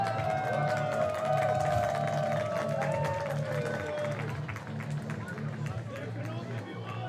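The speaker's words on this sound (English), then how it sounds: "Got some cheers from the crowd for that." A crowd cheers and murmurs in the stands at a European baseball game between Germany and the Czech Republic, a broad swelling roar that holds steady. A commentator talks over it throughout.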